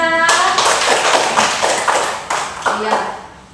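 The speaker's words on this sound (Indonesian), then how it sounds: "Beri tepuk tangan untuk kita." A class of schoolchildren clapping hands in a classroom, loud and close, in a quick burst of several claps that quickly fades out, starting after a brief tone.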